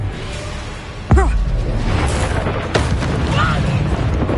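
A Confringo fire spell blasts in Hogwarts Legacy with a sudden booming burst, followed by a whooshing crackle and a second smaller impact amid busy battle ambience.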